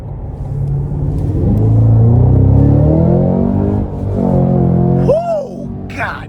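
A 2022 Cadillac CT5-V Blackwing with a supercharged 6.2-litre V8, in track mode, accelerates hard with a loud, deep rumbling roar that builds and swells, then eases, and a sharp whoop of a voice follows.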